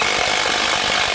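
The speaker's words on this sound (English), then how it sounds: "In fact, that's pretty impressive in wood to be a metal or steel drill bit." A Spyder Mach Blue Stinger half-inch drill bit bores into wood at speed 3, giving a short, dense, continuous grinding whir heard up close with no talk.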